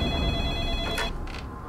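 A telephone rings with a bright electronic tone, sounding once and then breaking off, fairly close and clear with no talking over it.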